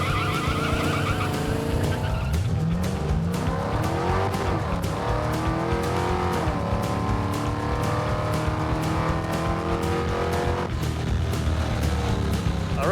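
A drag car with its rear tires aired down launches hard down a drag strip, engine roaring loud and close as the revs climb through gear changes, with tire squeal early in the run.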